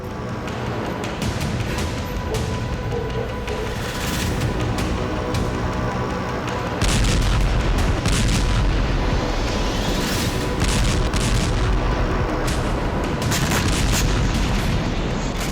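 Heavy bombardment explosions from Israeli bombing in Lebanon, a dense, loud barrage of booms and blasts rolling on continuously with a sharp intensification partway through.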